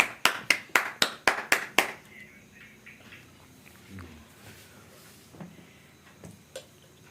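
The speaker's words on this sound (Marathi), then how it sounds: "टाळी टाळी जोरदार" A family claps together for a parents' wedding anniversary, a quick run of about seven loud, sharp claps in the first two seconds, then fading into quiet room noise with faint scattered knocks.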